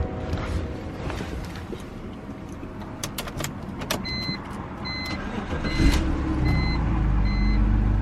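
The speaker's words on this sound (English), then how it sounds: "when I start the BMW right now, if the check engine light will be on." A BMW engine cranks and catches near the end, settling into a low idle rumble after clicks and chimes from the car's dash warnings sound inside the cabin.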